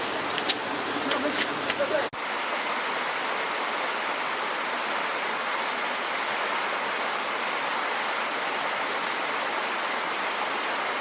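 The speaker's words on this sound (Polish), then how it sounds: "A tam jest wodospad, do którego dojdziemy." A waterfall in Georgia's Kutaisi region gives a steady, broad rush of falling water that fills the scene, loud and unbroken, after a brief moment of faint voices at the start.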